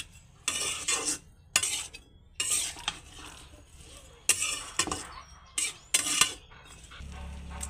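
Vegetables and spices are stirred in a pot for a drumstick and fish-head chochori, with a series of short scraping, clinking strokes of the spoon against metal separated by brief quiet gaps.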